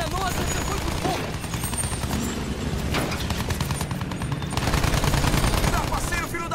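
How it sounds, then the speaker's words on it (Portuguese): Rapid gunfire from the Battlefield 1 video game crackles in dense bursts and volleys throughout, with a voice talking over the shooting. "O alemão tomou um tiro."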